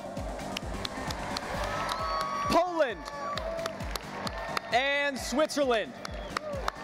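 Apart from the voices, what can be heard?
audience applause for arriving country delegations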